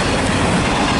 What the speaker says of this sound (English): At least I'm getting a train